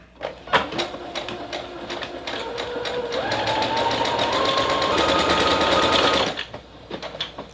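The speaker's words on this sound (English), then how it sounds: "press down on the presser foot and start sewing and let this thing do its" A sewing machine stitches a buttonhole automatically, a close rapid mechanical chatter that speeds up steadily for several seconds, then slows and stops.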